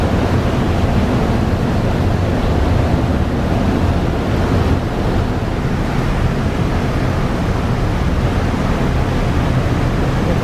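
Thrusters on the Carnival Breeze cruise ship churn the sea below, a steady, loud, roaring wash of water with wind buffeting the microphone throughout, and no voices over it.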